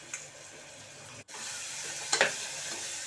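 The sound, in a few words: stirring chili powder into vegetables in a pan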